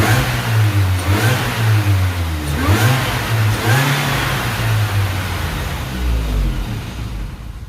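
A worn Mini car engine with very worn engine mounts and bad struts, about 22 years old, revs up and down repeatedly from idle, close and loud, the pitch rising and falling in several swells.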